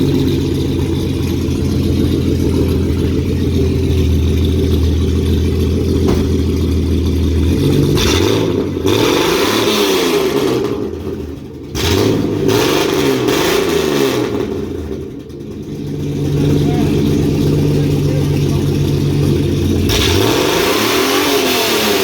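A jump-started Ford Falcon on 33-inch tyres, its engine idling loud and close, then revving hard in repeated rising and falling bursts before settling and revving again.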